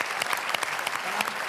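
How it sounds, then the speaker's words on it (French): An audience at an audiovisual awards event applauding the teams, with dense, lively clapping close by through the whole short burst. "Est-ce qu'on peut applaudir les équipes?"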